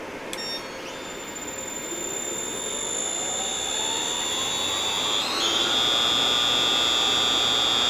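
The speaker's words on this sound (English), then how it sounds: "there is enough motor here to simulate the full 130 kilowatts that this drive can output" A large 130-kilowatt electric drive runs a motor on a test stand, producing a rising electric whine that climbs steadily in pitch and grows louder over several seconds, with a slight shift partway through.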